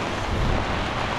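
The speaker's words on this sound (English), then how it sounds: "The wind picks up. Umbrella wants to blow out it." Wind gusting hard against an open umbrella during a rainy walk, a steady loud rushing buffet with no speech.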